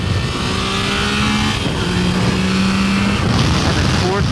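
A Triumph Tiger Sport 660 motorcycle accelerates downhill, its engine droning steadily with rising tones and a gear change partway through, close and loud with wind rush.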